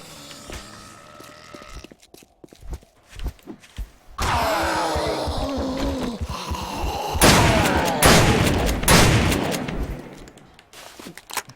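Shotgun fire and combat in the survival game 7 Days to Die, with several sharp, loud blasts and bursts scattered across the clip among clatter and impacts, with no talking.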